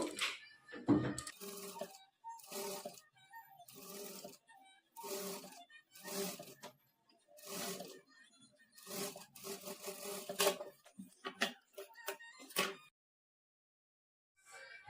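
A sewing machine stitches invisible thread piping onto lining fabric in short, rapid whirring bursts, about a dozen starts and stops with brief pauses between, close and fairly quiet.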